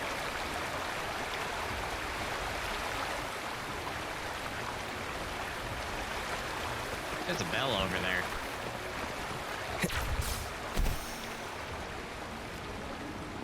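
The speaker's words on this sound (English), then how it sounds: "That water was really loud though, to be fair." Loud, steady rush of flowing water in the video game Wuthering Waves fills the whole stretch, with a voice talking over it and a few brief knocks near the end.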